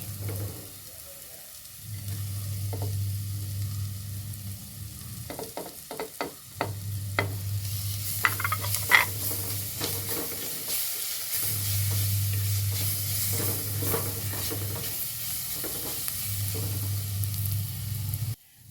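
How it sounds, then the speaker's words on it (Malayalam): Green chillies and curry leaves sputter in hot oil with sliced shallots for a papaya curry, a continuous close sizzle broken by scraping stirs and sharp crackles. "ഇതിലേക്ക് പച്ചമുളകും കരിവേപ്പിലയും ഇട്ട് കൊടുക്കേ"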